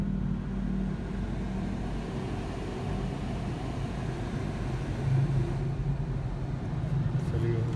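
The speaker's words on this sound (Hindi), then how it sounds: "चलिए इधर गाड़ी पार्क करते हैं और फिर देखते हैं।" A car drives slowly and pulls in to park on a city street, a steady low engine hum and road rumble close by throughout, with someone talking over it.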